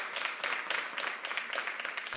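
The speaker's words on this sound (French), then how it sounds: "Je vous demande vraiment de l'applaudir chaleureusement" An audience applauds at a French conference about rap, a warm, dense patter of many hands clapping steadily and fairly close for a couple of seconds.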